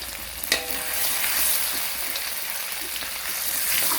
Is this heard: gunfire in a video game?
no